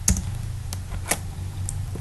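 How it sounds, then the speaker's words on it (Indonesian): Quick keystrokes on a computer keyboard while a server name is entered in a Debian 8 terminal, a few sharp taps spaced irregularly over a low steady hum. "Kemudian di sini kita akan mengetik server"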